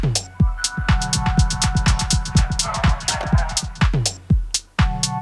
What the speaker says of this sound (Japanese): ピンポンディレイ。